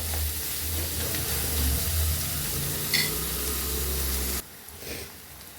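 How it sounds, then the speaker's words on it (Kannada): Fresh curry leaves fry in a pan for gongura chicken, giving a continuous hissing sizzle that drops away sharply toward the end. "ಇದು ಒಂದು 5 ನಿಮಿಷ ಫ್ರೈ ಆಗಲಿ"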